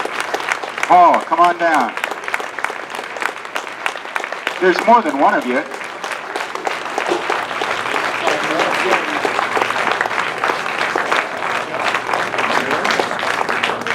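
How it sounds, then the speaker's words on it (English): Theater audience at the Historic Admiral Theater applauding, sustained clapping from a crowd that carries on throughout while someone speaks over it. "Keep that applause going"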